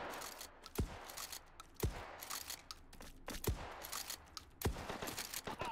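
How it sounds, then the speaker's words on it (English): Shotgun fire in the VR game Hot Dogs, Horseshoes & Hand Grenades: five heavy booming blasts spaced about a second apart, close and loud, over a busy background of other gunfire. "shotgun"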